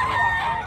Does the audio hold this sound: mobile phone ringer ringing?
no